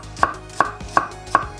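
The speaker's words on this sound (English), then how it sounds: "So now we're gonna start chopping the vegetables. Chop it all julienne" A knife chops vegetables julienne-style for fajitas, four crisp, evenly spaced strikes on a cutting board, close and clear with no talk.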